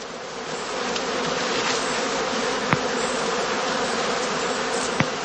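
Honeybees buzz steadily at a heather skep apiary on heathland, a dense continuous hum from many bees close by, with a few faint clicks and taps breaking through.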